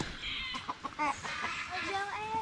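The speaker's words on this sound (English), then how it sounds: "Y'all can see how the chickens love coming in the woods here." Chickens cluck softly among trees in the woods, several short, faint clucks and calls scattered over a quiet outdoor background.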